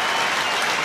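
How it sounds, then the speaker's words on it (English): A rugby stadium crowd at an Exeter match gives dense, continuous applause, a loud and even wash of many hands clapping together. "this the applause for Afi Rotuniyiwawa at the end of his Gardens career"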